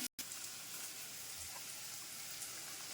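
Onion sautéing in a pan with garlic and ginger, a steady, soft hiss of sizzling that runs without pause after a brief gap at the very start.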